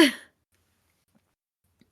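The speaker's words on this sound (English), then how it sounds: "having to blow my nose and cough and be gross all the way through this" A single short cough right at the start, close and sharp, followed by near silence.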